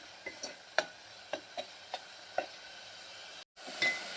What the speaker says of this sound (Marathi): हे बघा अगदी व्यवस्थित मसाला भाजला जातोय